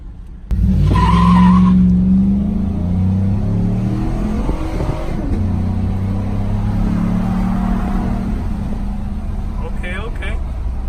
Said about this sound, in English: Launch on you guys right quick. See what this GMC Sierra got.